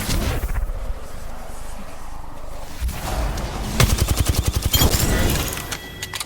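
Gunfire in Apex Legends: a loud, close burst of rapid automatic shots in the second half, with scattered single shots, impacts and game effects before it.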